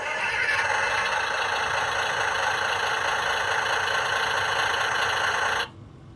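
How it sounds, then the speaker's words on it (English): Electronic engine sound from a Hess 2008 toy dump truck, a steady droning idle with a buzzy, tonal rattle that holds evenly for several seconds, then cuts off abruptly near the end. "we have the start engine button"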